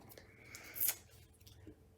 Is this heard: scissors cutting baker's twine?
yes